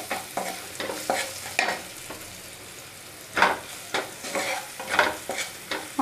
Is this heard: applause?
no